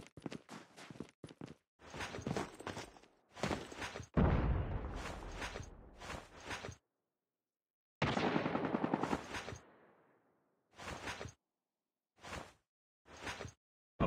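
Rapid bursts of gunfire in a tactical shooter game, some sustained and some clipped short, with heavy reports and decaying tails scattered across the round and separated by silent gaps.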